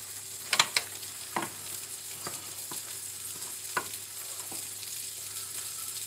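Veal kidneys fry quietly in a small pan, with a soft steady sizzle broken by a few brief clinks and stirring taps from a utensil.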